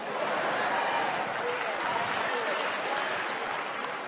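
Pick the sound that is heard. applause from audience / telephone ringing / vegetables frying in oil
applause from audience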